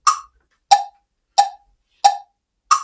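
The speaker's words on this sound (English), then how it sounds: "this metronome is going to help us keep that pulse" A metronome ticks a steady pulse of five sharp, evenly spaced clicks about two-thirds of a second apart, crisp and close with silence between beats.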